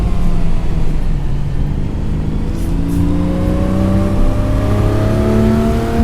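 Engine of a Porsche Singer in a racing video game set at the 1973 Targa Florio, a steady droning growl with rising harmonic whine as it accelerates through the gears, loud and continuous with no talk.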